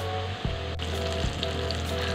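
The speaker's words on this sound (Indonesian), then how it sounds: "sekarang aku mau goreng sampai warnanya kuning keemasan dan juga matang" Chicken pieces frying in hot oil for Indonesian ayam geprek, a steady loud sizzle with a low hum underneath and a couple of brief knocks.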